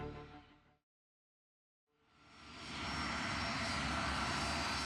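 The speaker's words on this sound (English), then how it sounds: "the Pan Am flight slowly makes its way down the runway" Engine drone from a Pan Am airliner taxiing slowly down a fog-covered runway. The sound fades out, drops to a brief silence, then swells back into a loud, steady roar.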